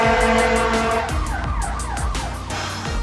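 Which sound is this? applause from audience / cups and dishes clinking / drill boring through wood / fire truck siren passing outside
fire truck siren passing outside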